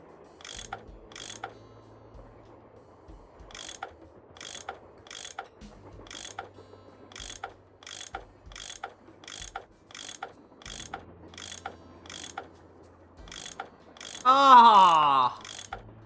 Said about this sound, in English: That tool I saw in the caboose. I bet that's what you use to unscrew these bolts.